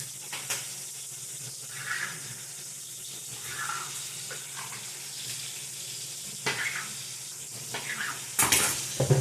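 Tap water runs steadily into a sink while fish is washed by hand before frying, a close continuous hiss with faint splashes and a few brief clatters near the end.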